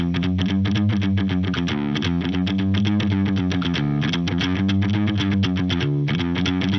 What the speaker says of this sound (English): This tone is also really cool to play rockabilly, by the way. It has that funny little clang thing.